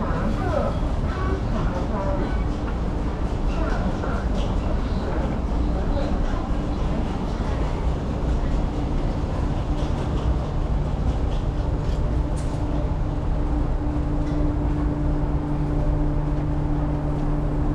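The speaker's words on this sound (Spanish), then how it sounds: "Este es el metro." A Taipei metro train rumbles through a station with a steady mechanical drone and a sustained hum. It stays continuous for the whole stretch, with light background clatter and voices mixed in.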